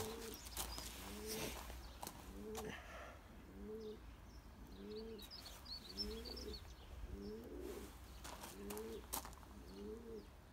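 Racing pigeons in a loft coo in a steady series of about nine repeated low, rolling calls at even intervals, with faint chirps and rustling behind them.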